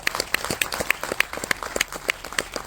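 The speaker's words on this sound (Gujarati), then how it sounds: "આપ સૌની તાળીઓ સાથે" Audience clapping at a film premiere night, with sharp repeated claps in an uneven rhythm that stay steady and moderately loud throughout, no voices on top.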